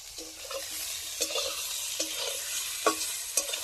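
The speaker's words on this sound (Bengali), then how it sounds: "আমাদের বেগুন ভাজা হয়ে গেল।" Round eggplant slices seasoned with turmeric and salt fry in a little oil, giving a soft continuous sizzle broken by quiet spatula taps and scrapes every second or so, with no voices.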